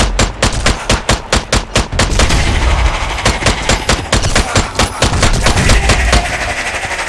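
Rapid bursts of gunfire in the video game Strange Brigade on Nintendo Switch, loud and close, with fast repeating shots in short volleys that run almost without a break.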